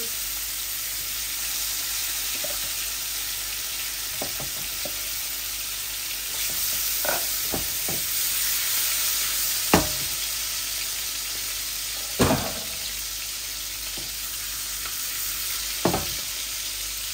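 Koi fish and potatoes rubbed with salt and turmeric frying in oil, a soft continuous sizzle with occasional sharper spits and pops standing out over the steady hiss.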